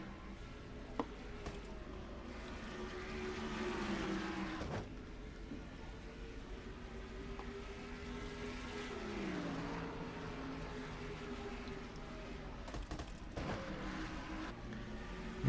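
Race cars at Richmond in a stock-car racing game roll off on a restart, a steady engine drone that swells and fades as the pack passes, with a sharp burst near the end.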